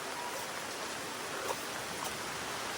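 Heavy rain pours down in a steady hiss, faint and even with no talking over it.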